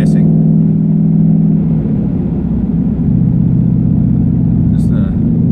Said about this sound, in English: Hear that downshifting? It like rev matches for you.